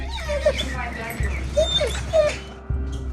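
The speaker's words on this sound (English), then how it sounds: "As we're speaking with Susan and Jeff, the cadaver dogs finally arrive." Cadaver dogs whimper and whine in short, high, repeated bursts as they arrive, close by, with people talking over and around the dogs' cries.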